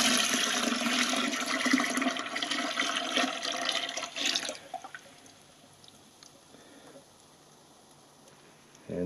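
Water poured into a white wine fermenter already holding yeast nutrient, pectic powder and acid blend, a loud continuous gushing splash for about four seconds that breaks off into quieter trickles and drips.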